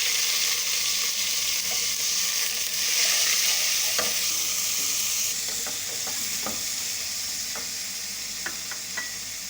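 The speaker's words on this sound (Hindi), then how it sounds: "अब हम प्याज को कच्चा पक्का कर लेंगे, कच्ची पक्की हो जाएगी प्याज।" Onions frying in ghee while being stirred, a steady close sizzle with occasional sharp spoon clicks against the pan.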